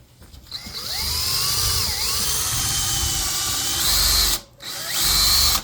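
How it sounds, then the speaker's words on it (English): A power drill whirs close up, its pitch rising and dipping as it drills a pilot hole and countersink in wood, stopping briefly before a second short burst. "first we're going to drill a hole and a countersink"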